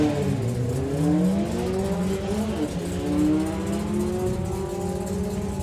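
A Ford Mustang drag car at a Doorslammers drag racing event revs hard, its engine note climbing and falling in steady sweeps of high RPM, loud and close throughout with no break.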